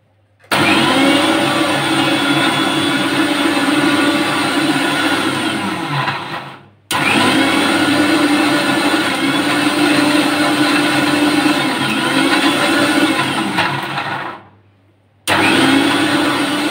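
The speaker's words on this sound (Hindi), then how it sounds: "और अब हम इसको पीस लेंगे।" Loud, close whine of a mixer grinder grinding coriander chutney with green peas, running in two long bursts with brief pauses between and starting up again at the end, no talk.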